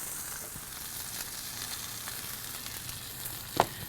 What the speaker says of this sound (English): We're going to sear this until it's done, but basically it's going to be about a minute.